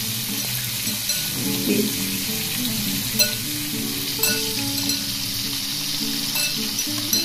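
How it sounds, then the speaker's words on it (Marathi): Chicken popcorn pieces deep-frying in hot oil, a steady crackling sizzle running throughout at close range with light bubbling bursts and a single brief spoken word. "आता हे आपण व्यवस्थित तळायला सोडूया"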